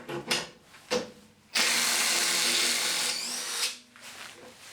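A DeWalt DCF887 18V XR brushless impact driver drives a screw in one sustained, loud burst of about one and a half seconds, preceded by a few short trigger blips and followed by quieter tool handling.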